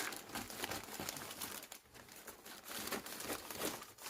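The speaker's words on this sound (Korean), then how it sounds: "식물 택배 포장 뜯는 것 중에서 이번이 제일 힘든 것 같습니다" Plant parcel packaging made of bubble wrap and newspaper is torn open by hand, giving a steady run of loud, close crinkling and ripping that breaks up into bursts and pauses, with no voices.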